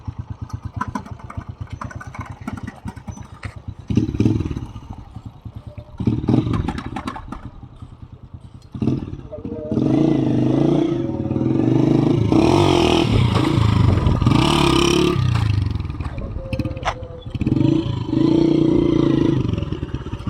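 A Honda motorcycle idles with a rapid putter, then revs loudly in repeated bursts during wheelie practice, the engine surging and falling back between throttle blips at close range.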